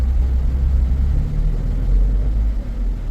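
A car engine on a no-power fault holds at full throttle, giving a loud, steady low rumble with a slight rise and fall in pitch. It sounds close and carries no talk over it.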